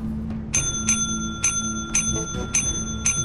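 Bell rung repeatedly inside the Lethal Company video game, about six bright metallic dings in an uneven rhythm, close and clear over a low background hum, with no talk.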